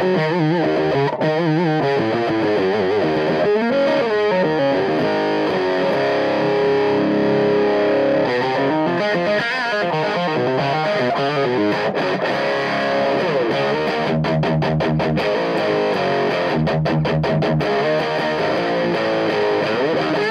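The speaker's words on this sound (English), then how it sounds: "And as I turn it, you'll notice the bass going away." An electric guitar through a Dirty Boy Octo '59 fuzz pedal plays a sustained distorted octave-fuzz line while the low end is turned down. The tone is loud and continuous, with stuttering choppy bursts near the end, and no one speaks.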